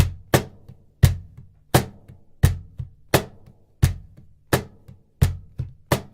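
Deep, thumping cajon bass hits land in a steady repeating rhythm, each strike booming then decaying quickly, with some quicker paired hits between.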